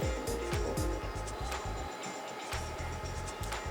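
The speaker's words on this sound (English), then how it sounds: "Alright, I hear the machine going." A Glowforge laser cutter runs with a steady mechanical hum and rhythmic low pulsing from its motors and fans, close and continuous, with faint clicks over the drone.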